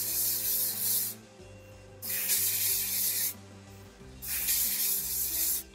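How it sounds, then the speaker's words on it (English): Three long hissing bursts of hairspray, each lasting about a second, separated by short pauses, close to the listener. "I'm going to spray it to buggery with some hairspray."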